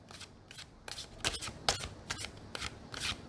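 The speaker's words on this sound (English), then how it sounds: "you hear that sound of the cards?" Cartomancer playing cards are overhand shuffled in quick repeated bursts of crisp papery riffling and slapping, close-up and fairly quiet, roughly eight strokes with brief gaps between.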